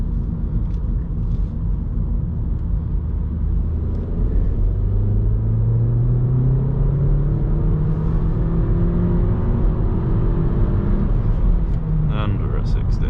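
BMW F21 1 Series petrol hatchback accelerating in sport mode, a low engine drone rising steadily in pitch as revs climb, heard from inside the cabin with a driver talking over it.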